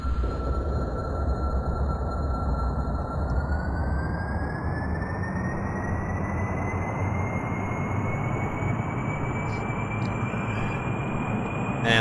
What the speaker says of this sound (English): Jet engine start.